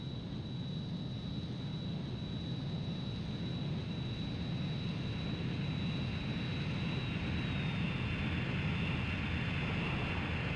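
Jet aircraft engine in Ace Combat 3 during aerial refueling, a steady broadband roar with a thin high whine that dips slightly near the end, continuous and even throughout.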